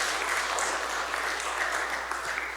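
Audience applause fills a worship service for families at Hoseo University, a steady wash of many hands clapping at moderate, even loudness throughout, with no talk over it.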